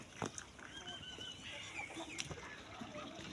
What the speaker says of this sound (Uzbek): Xo'raj voy.